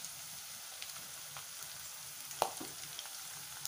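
Curry leaves and green chilies frying in oil for Kerala-style chicken sukka, a faint continuous crackle with one sharp pop and a few soft ticks.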